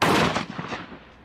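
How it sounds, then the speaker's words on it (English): A loud gunshot fired at a target 40 yards away, a broad blast that booms at once and then rolls and echoes away over about a second, with no talking. "Next, we'll shoot at a target 40 yards away"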